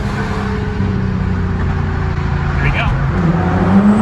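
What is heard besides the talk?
Nissan GTR R35 accelerating hard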